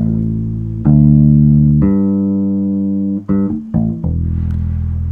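Fender Mustang bass guitar with old strings and a vintage tone, played alone in a few sustained low notes, some held for about a second before a short run of quicker plucked notes, loud and close.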